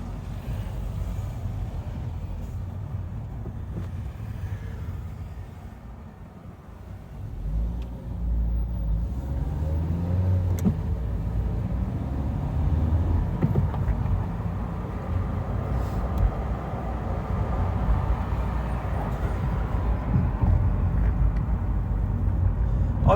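A 2008 Nissan Note drives over bumpy, potholed roads, giving a loud, continuous low road rumble and tyre roar from inside the cabin, with dull thuds from lumps and no voices.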